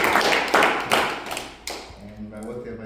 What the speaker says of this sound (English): So clap your hands, all you people.